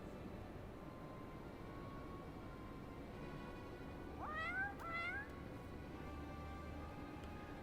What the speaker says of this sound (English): Oi, cat. Are you Schrodinger from the shortstop, or are you Quickthings' familiar Shinoa? Twice for yeah